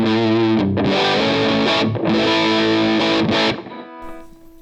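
An electric guitar plays heavily distorted chords through a homemade effects pedal, loud and sustained with a few quick breaks, then fades into a ringing tail.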